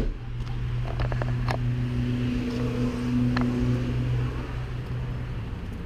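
A 2018 Isuzu NPR-HD truck's 5.2L four-cylinder diesel engine idling after start-up, a steady low tractor-like drone with a humming tone throughout and a few short clicks early on, heard close with no talking.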